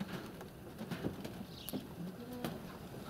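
Pigeons coo softly in a snowy outdoor spot, a low, faint murmur of calls over a steady background hiss.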